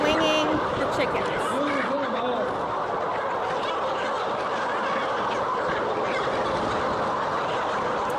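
Chickens in an industrial farm shed being swung and herded across the floor, a dense crowd of clucking and squawking birds, loud and continuous, with a person talking over the flock.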